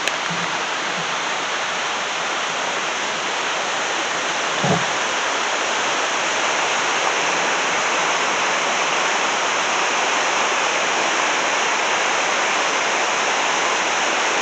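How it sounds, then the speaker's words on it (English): A river flows in a steady, broad wash of rushing water, close and constant throughout, with no voices. "we'll go over here and take a look at the river, make sure everything's flowing good there"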